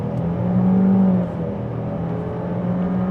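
A 2026 Chevy Equinox RS accelerates hard, its engine drone rising steadily and close, with a strong low hum held throughout and no talk.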